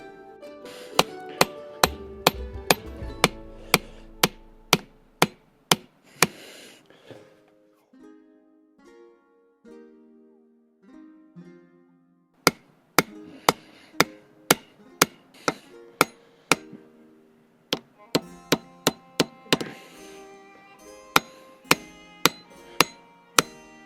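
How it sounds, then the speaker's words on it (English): A ball peen hammer riveting a knife handle on a forged sgian dubh: rapid runs of sharp metallic strikes, then a quiet pause with softer taps, followed by more bursts of ringing blows, close and loud. "Got it riveted over on the end with the ball peen hammer"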